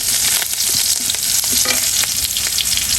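Chopped onion, green chili and garlic frying in a pan for taro leaf stir-fry, a loud, dense, continuous sizzle with faint stirring taps throughout.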